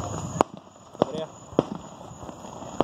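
Fireworks burst at a July 4th celebration at Patriots Point, a few sharp separate bangs spaced about half a second apart, heard under ongoing conversation.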